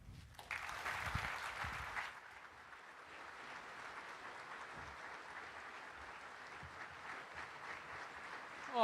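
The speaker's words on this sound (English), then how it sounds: "Please join me in giving me a big round of applause and a warm aloha to our Governor." An audience claps steadily for a governor arriving at a digital government summit in Hawaii, a dense, even round of applause from a large crowd, with a few voices in the first moments.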